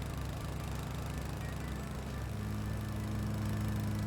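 A lawnmower in the Rising Star 2 video game gives off a steady, low, droning engine hum. It runs continuously at an even level throughout, with no voices over it.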